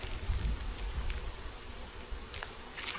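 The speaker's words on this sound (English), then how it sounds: "we've got a ton of bees in the top" Honeybees swarm the top of a hive treated with Formic Pro, a continuous close buzzing hum with a steady insect whine, some soft bumps and rustles underneath.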